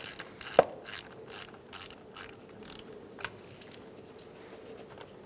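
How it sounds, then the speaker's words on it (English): An 8mm socket ratchet clicks in a quick, uneven run of pawl ticks while loosening the negative battery terminal on a 2000-2007 Ford Taurus, close up and fairly quiet, with no talk. "Using an 8mm socket or wrench, you're going to disconnect your negative battery terminal."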